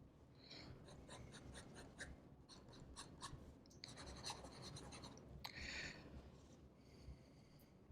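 Pelikan Twist fountain pen writing fast on paper, with quick close scratchy nib strokes in bursts and short pauses, faint and steady throughout.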